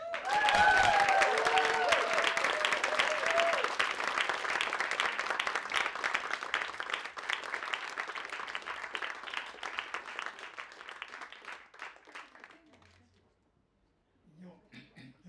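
A large audience at a same-sex marriage celebration applauds as a former chairman of SETA comes on stage. Loud, full clapping follows some opening speech, then gradually thins and fades away, and a voice talks briefly at the end.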